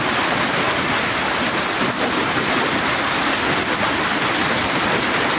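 Hail and heavy rain pelt a road and parked cars during a hailstorm in Saudi Arabia, a loud, steady dense hiss of impacts without a break.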